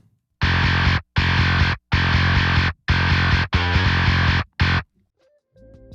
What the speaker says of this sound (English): I wanted the bass to just have a distortion character that just gets out of the way a little bit